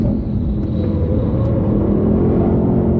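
A Ford Mustang Dark Horse driven hard on a race track, its engine a loud, steady low rumble held at high revs and close by, with no break for the full few seconds.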